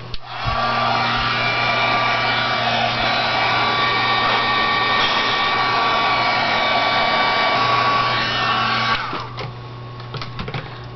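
A heat tool melts embossing powder on a craft tag with a loud, steady blowing whir that runs close and unbroken for about nine seconds, then cuts off, leaving faint handling noises.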